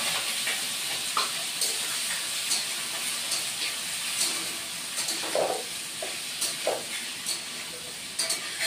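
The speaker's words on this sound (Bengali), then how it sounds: "এটা এখন আলুগুলি আমি ভাজবো, ভেজে নামিয়ে নিব" Potatoes fry in hot oil in a pan with a soft, steady sizzle, broken by light scraping clicks of stirring; fairly quiet and close, with no talking.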